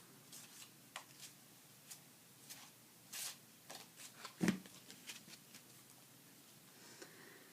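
Tarot cards are shuffled quietly by hand, soft scattered riffles and flicks in a very quiet room, a few sharper snaps standing out among faint brushing sounds.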